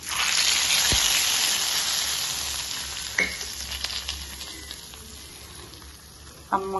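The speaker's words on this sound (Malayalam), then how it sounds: "ഇത് നമുക്ക് കടലക്കറിക്കകത്തോട്ട് ഒഴിച്ചു കൊടുക്കാം" Hot tempering poured into a pan of chickpea curry (kadala curry) sets off a loud, dense sizzle that slowly fades, with a brief clink near the start and another toward the end.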